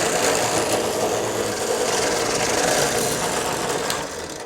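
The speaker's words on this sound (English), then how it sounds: "So I'm going to cut the pilot hole." Wood being bored for a pilot hole, a steady broadband grinding rasp of the bit cutting through timber that runs continuously at close range and eases off near the end, with no talking.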